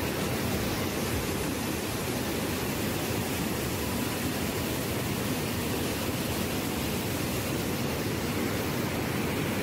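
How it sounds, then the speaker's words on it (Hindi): Fast-flowing water at Kundal Shahi waterfall in Azad Kashmir, a low but forceful fall, roars in a steady, dense broadband rush that fills the whole stretch close by with no voices heard. "कुंडल शाही वाटरफॉल सच में एक वाटरफॉल है क्योंकि चाहे इसकी हाइट कम है लेकिन पानी बहुत ही तेज़"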